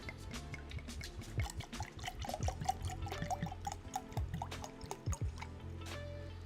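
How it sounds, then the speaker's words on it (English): Water is poured into a vessel indoors, with a run of drips and irregular glugging, clunking splashes over several seconds. Quiet and close, with no talk. "let me pour some water up real quick"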